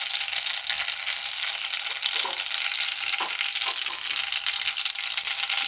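Mustard seeds and cumin frying in hot oil, a steady dense sizzle throughout with faint crackles and pops scattered over it, close and fairly loud, no voices.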